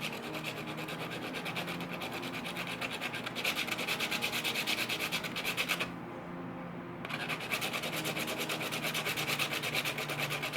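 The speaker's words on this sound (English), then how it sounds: "very slowly rotating the joint in my hand while I am sanding." Steady hand sanding of a Smart Doll joint, a continuous close dry rubbing with a fine rhythmic scratch as the joint is slowly rotated, with a brief pause partway through, no talking.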